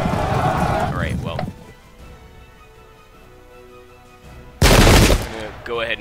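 Musket volleys in the Pike and Shot battle game, a brief rattle of shots early on, then a loud burst of massed fire near the end, with quieter battlefield noise between.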